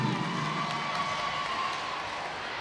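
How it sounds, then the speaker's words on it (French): An audience at a French spelling contest finale applauds a contestant, a faint, dense patter of clapping with some crowd murmur that fades slightly toward the end. "Merci, on l'applaudit."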